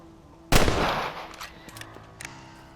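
A single loud, close rifle shot cracks out in the Red Dead Redemption video game, followed by a fading echo and a few faint clicks and thuds.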